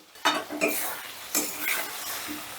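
Fried potatoes stirred into a masala for a vegetarian pumpkin and potato curry with chana dal, with several scraping strokes of a spatula against the pan over a low sizzle. The strokes are close and fairly loud, with short pauses between them.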